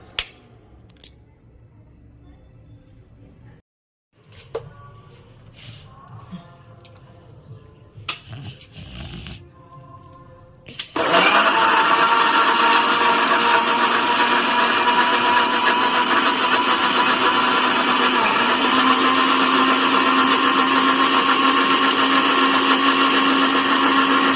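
An electric mixer grinder grinds spice paste in a home kitchen, starting abruptly after some quiet clatter and running as a loud, steady, broadband whir for over ten seconds without a break.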